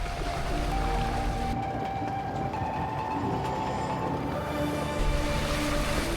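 A vehicle fords a water crossing in Afton Canyon in the Mojave desert, with a loud, steady rumble and rushing, splashing wash that continues without a break.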